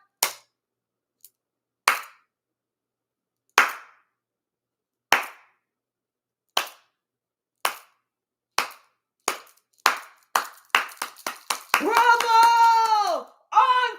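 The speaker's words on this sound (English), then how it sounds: "When they was finished, you did the slow clap." A slow clap: single sharp hand claps spaced about two seconds apart, gradually quickening into a rapid run, then giving way to a burst of loud cheering and shouting voices at the end.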